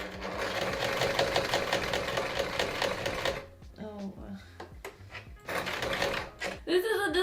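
Home sewing machine stitching a fabric scrunchie, a dense rapid mechanical whir running steadily for about three seconds, then stopping and restarting in short uneven bursts with fabric rustling between.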